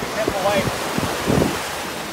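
Waves wash and rush onto a shore in a steady broadband roar, with a brief faint voice near the start.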